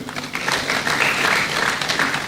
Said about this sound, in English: Biochemists should not be tired of clapping for these people who have come to honor us